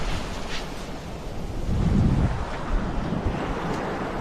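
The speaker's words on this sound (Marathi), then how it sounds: "समुद्र काय लाटा अशा दणादण फुटायला लागलेल्या आहेत." Sea waves break and roll in continuously on Taramumbari beach on the Konkan coast, a broad wash of surf mixed with gusty wind buffeting the microphone and one heavier surge near the middle.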